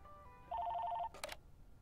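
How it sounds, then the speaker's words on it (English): A phone rings in the video game Lake, set in Providence in 1986: a quick warbling electronic trill followed by a short burst, clear and alone over a faint background. "Ooh, phone call."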